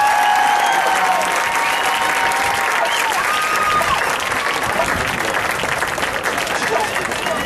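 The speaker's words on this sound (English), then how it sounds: "give the Tucson High Marching 100 one more big round of applause." Loud sustained applause from a large crowd for a high school marching band at a band show, dense clapping that continues throughout with a bit of cheering near the start.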